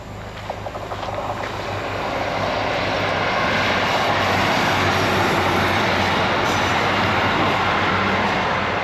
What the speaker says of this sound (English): And here's another train.